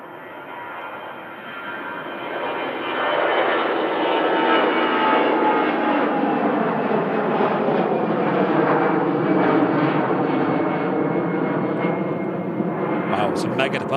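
An airliner departs Manchester Airport from runway 23 right, its engine roar swelling over a few seconds into a loud, sustained rumble and whine as it passes, while people chat underneath.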